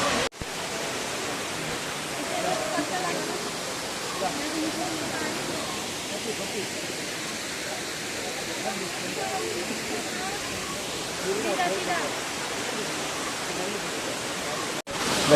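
Abbey Falls in Coorg roars with a steady broadband rush of falling water, constant and fairly loud throughout, with faint voices of visitors mixed into the wash.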